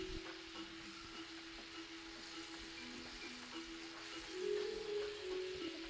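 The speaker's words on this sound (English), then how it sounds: "the glaze is reducing down nicely" A citrus glaze reduces and sizzles in a pan with salmon, giving a steady, close frying hiss that swells a little louder near the end, with no voices.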